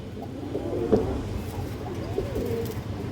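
A breeder pigeon of good bloodline in a loft of high-flyer and colored pigeons gives a few low, throaty coos at close range over a steady ambient hum.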